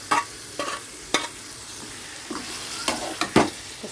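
Marinated chicken being stirred in a frying pan for a chicken curry, with spoon scrapes and knocks in irregular bursts over a soft, steady sizzle, close by and with no voices.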